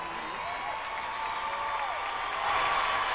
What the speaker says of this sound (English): Like a fleeting gust of wind, the applause quietly drifts across to the Piazza Bra.